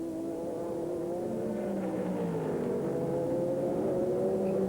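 Several classes of race cars share a tight American Le Mans Series circuit in Portland, Oregon, in 2001, their engines droning steadily and loudly with shifting pitch as cars pass close by.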